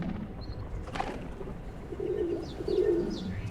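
Pigeons coo in low, repeated phrases on an empty beach, two soft rounded calls rising near the end over steady background noise.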